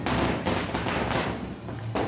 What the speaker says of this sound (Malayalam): പടക്കം അപ്പുറത്തിട്ട് പപ്പ നന്നായി പൊട്ടിക്കുന്നുണ്ട്